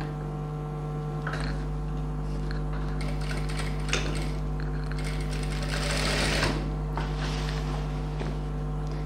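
A sewing machine runs steadily, stitching down the pleats of a silk pattu pavadai skirt, with a continuous close mechanical hum and whir.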